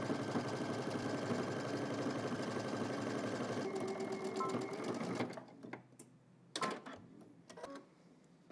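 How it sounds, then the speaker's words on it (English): A sewing machine stitches down the outside seam of a garment at 5/8 inch, running steadily and loud for about five seconds, then stopping into quiet broken by a few sharp handling clicks. "We're going to stitch down the outside seam and then the inside seam."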